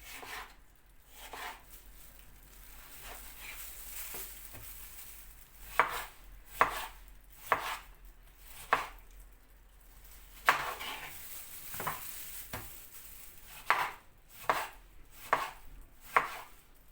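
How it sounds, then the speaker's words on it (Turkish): A knife slices eggplant into thin rings on a cutting board, a series of crisp, evenly spaced cuts with quiet pauses between them. "Bunları da ben böyle halka halka doğrayayım."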